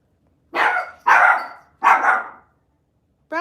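A dog barks three times in quick succession, loud and close, with short pauses between barks and the start of a fourth at the end; no one speaks.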